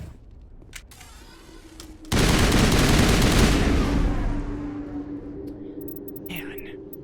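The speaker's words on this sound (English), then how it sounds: "Can you turn the gunfire down one more smidge?" Gunfire in the video game Mass Effect Legendary Edition, a sudden loud sustained barrage of shots and blasts that slowly fades, with quiet talk before and under it.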